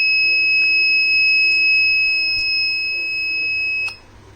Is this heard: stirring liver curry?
no